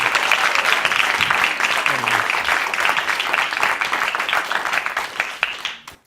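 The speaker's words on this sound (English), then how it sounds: "Massive round of applause for Dan, everybody!" Live audience at a speaking competition breaks into sustained clapping and applause, dense and steady for several seconds before fading out, with a host's voice heard over the start.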